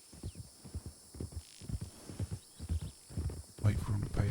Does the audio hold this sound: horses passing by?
yes